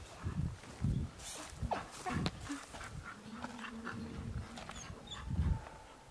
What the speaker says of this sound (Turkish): Güzel köpek ama.